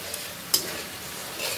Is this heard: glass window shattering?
no